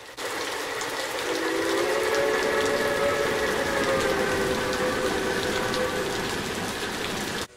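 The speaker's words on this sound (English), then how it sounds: "Then, a coal train rounds the bend. This one still has its steam power intact." A steam locomotive hauling a coal train sounds a long, sustained steam whistle with a rumbling, clanking train noise underneath, loud and continuous.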